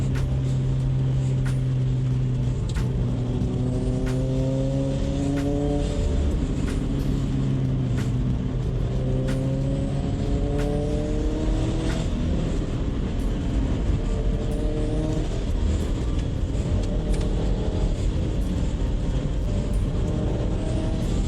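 Subaru WRX STI on wet roads, a steady loud rumble of engine and road noise with rising and falling gear tones as it accelerates and shifts, continuous throughout with no talk.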